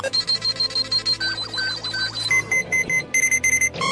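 Electronic detector beeping in a cartoon-style scene, a steady run of short repeated tones with a warbling stretch in the middle, shifting to higher, choppier beeps toward the end, loud and up close.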